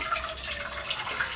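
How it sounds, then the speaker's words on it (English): Freshly boiled water splashes and trickles steadily into a metal saucepan, a continuous bright pouring sound heard up close with no talking. "I'm now going to put a little bit of freshly boiled water in"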